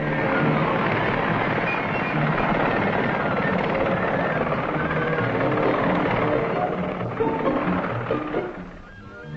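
Westland Whirlwind helicopter flying, a steady loud broadband rotor and engine roar held throughout, easing slightly at the very end.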